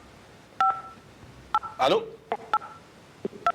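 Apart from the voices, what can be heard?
telephone tones on a radio call-in line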